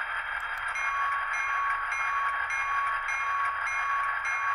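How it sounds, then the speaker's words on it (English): A model train's bell rings with a steady, repetitive metallic chime pattern, fairly quiet and close, continuing evenly for several seconds with no voices. "Bell."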